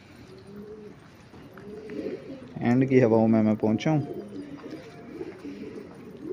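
Pigeons coo softly in a loft of fighting pigeons kept for sale, low throaty calls nearby beneath a louder human voice that sings or talks over them.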